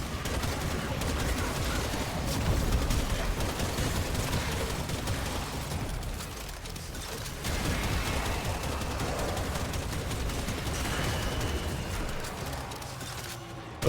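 Continuous gunfire in the co-op video game Warframe, a dense, steady wash of rapid shots and impacts that barely lets up, with faint voices now and then.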